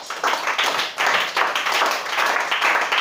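A church congregation claps during a worship service, giving a dense, sustained wash of applause that keeps an even, lively rhythm from start to finish, close and loud, with no voices standing out.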